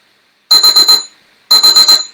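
A workout interval timer sounds two loud, sharp bursts of electronic beeps, four quick beeps in each, separated by a short silence.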